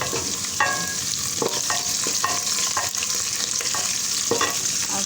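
Cumin seeds and green chillies sizzling in ghee with light-brown fried onion, a dense close crackle under repeated clinking scrapes of a spoon stirring the pan.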